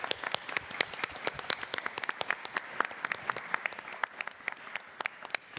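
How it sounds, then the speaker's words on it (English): An audience at a city traffic presentation gives steady applause, many hands clapping at once in a moderately loud, sustained burst with no talking. "So a round of applause for Brent and for the team."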